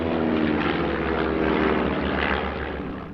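A Stampe, a Belgian touring, training and aerobatic biplane, flies its solo display at an airshow, its propeller engine droning loudly and steadily throughout before easing off slightly at the end, with no talk over it.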